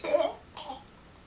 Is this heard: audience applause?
no